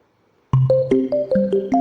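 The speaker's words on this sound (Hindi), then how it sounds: "तभी फोन की घंटी बजने की आवाज आई।" A telephone rings in a police station, starting abruptly with a bright, rising electronic melody of quick chiming notes, loud and close.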